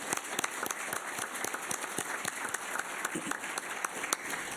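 An audience gives a round of applause, many hands clapping in a dense, steady patter that carries on evenly at moderate volume for several seconds.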